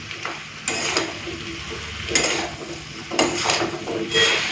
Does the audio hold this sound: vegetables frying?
yes